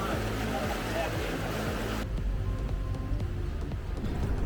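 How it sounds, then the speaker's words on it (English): Ocean waves washing near Wattamolla, a broad rushing surge heard alongside the low hum of a boat engine, continuous and fairly loud, fading into quieter water and motor rumble partway through. "And the waves just keep going."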